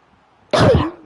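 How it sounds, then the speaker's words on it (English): A single short, harsh cough bursts out after a moment of near silence, close and fairly loud. "Cough."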